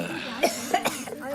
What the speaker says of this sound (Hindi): बहुत खांस रही, क्या बात है?